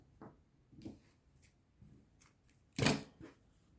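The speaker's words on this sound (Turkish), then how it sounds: "Burada ipimi kesiyorum." Scissors snip crochet yarn for an amigurumi doll outfit. Several soft, close clicks are followed by one louder, sharper snip, with quiet pauses between.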